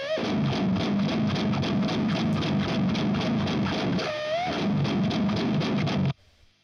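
Loud, dense distorted metal electric guitar chugging steadily through an amp cabinet, miked with an SM57 slightly off centre, with a brief pause midway, then cutting off abruptly near the end.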